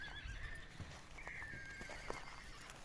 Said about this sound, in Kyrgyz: Мына туугандар, тору кашка жаныбар.